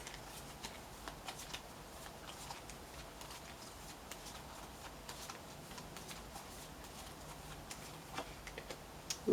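Tarot cards are shuffled quietly and continuously, a soft riffling patter with small irregular taps and clicks, faint and close, with no talking.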